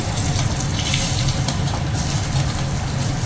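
Cut potatoes drop into a hot cooking pan with cumin, setting off a steady, close sizzling hiss that holds at even loudness throughout.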